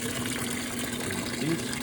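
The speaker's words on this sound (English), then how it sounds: "I am doing a load of whites in the Whirlpool direct drive. I'm using pure hot water." Hot water pours steadily into a Whirlpool direct drive washing machine loaded with whites, a continuous close rushing fill with a low hum underneath and no talking.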